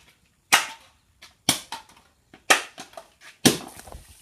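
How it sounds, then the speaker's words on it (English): A soda can is smashed and bursts, giving four sharp, loud cracking bangs about a second apart, each followed by brief fizzing spray and rattling debris, with no talk between the hits. "He's going to smash the can first. 3, 2, 1, smash it!"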